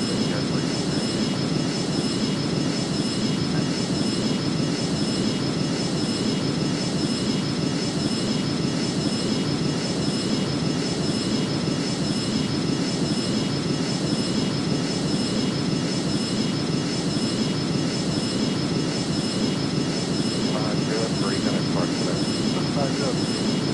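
Airbus A330 jet engines roar steadily during takeoff in the video game Airline Commander, a constant loud broadband rush that holds unchanged for the whole stretch.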